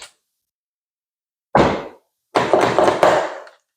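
On a Genesis G70 car, a single sharp thunk is followed by a longer clattering mechanical burst as the door locks engage, all close-up in otherwise quiet surroundings.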